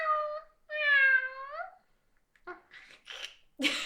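A person imitating a cat, giving two drawn-out, wavering meows in a row, loud and close, followed by a few short breathy vocal bursts.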